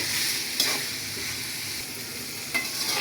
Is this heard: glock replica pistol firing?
no